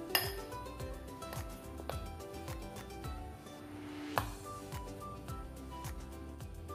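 Chicken tikka being mixed into beaten eggs in a bowl, with a steady run of light clinks and taps from the utensil against the bowl over soft background music.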